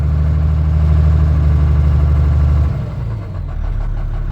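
An International DT466 diesel in a dump truck runs loud and close with a deep, even drone. Partway through, the engine note shifts and then settles into a rougher, changing tone.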